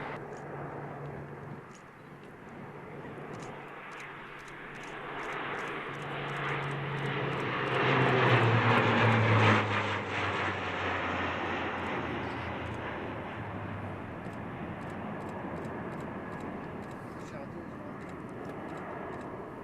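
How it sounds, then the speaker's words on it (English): A Eurofighter Typhoon jet pulls out of a low-level pass, its engine roar swelling to a loud peak midway and then holding as a broad, sustained rumble that slowly recedes; a voice speaks faintly over it. "Typhoon 13 pulling out low level, only 85 plus."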